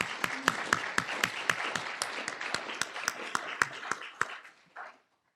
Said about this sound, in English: let's get a round of applause for this excellent panel